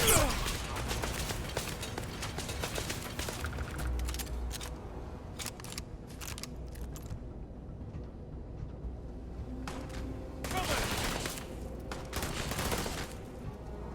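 Rapid gunfire crossfire in the video game Starfield, dense bursts of shots crackling loud and close, with sharp clustered volleys near the end and no speech.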